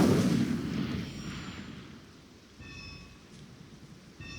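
In Hogwarts Legacy, the Incendio fire spell goes off with a loud burst of crackling, roaring flame that fades over a few seconds and is followed by quieter shimmering chimes.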